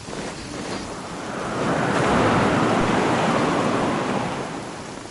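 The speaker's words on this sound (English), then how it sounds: "Taking a stroll in the middle of a downpour certainly rouses the spirit." A heavy downpour in the video game Genshin Impact, a dense steady hiss of rain that swells louder through the middle and eases off at the end, with no voices over it.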